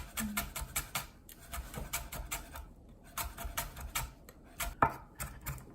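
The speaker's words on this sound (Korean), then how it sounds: "파는 최대한 가늘게 썰어주면 되죠." Green onion being finely minced with a knife on a cutting board, a steady run of quick, close, crisp taps in rapid bursts with brief pauses, no talking.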